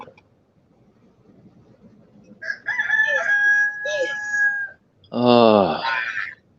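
A rooster crows twice: a long, loud, strained cock-a-doodle-doo held for about two seconds, then a second, shorter crow, close by and heard alone over near silence.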